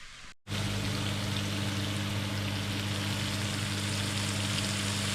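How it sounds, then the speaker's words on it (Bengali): Samosa filling spice mix sizzling steadily in a hot pan, a continuous loud frying hiss that starts abruptly after a brief silence and holds evenly throughout. "একটু কষিয়ে নেই।"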